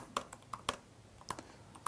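Code being typed on a computer keyboard while programming CUDA neural networks in Colab, with sparse, irregular key clicks spread across two seconds, near and fairly quiet, with no voices.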